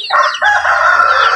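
Chicks and chickens on a small farm, some of the chicks sick after a week of rain and flooding, calling loudly and continuously in a dense chorus of high cheeping and clucking, with a faint low hum underneath.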